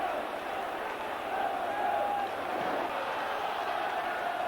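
Football crowd at a 1984 Walsall v Liverpool match, a continuous broad roar of thousands of voices from the terraces, steady and distant, with swelling chants urging the team forward late in the game.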